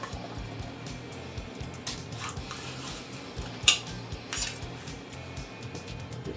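A measuring spoon scoops from a brand new baking powder canister in a home kitchen, making light clinks and metallic scraping with one sharp tap partway through, close and fairly quiet.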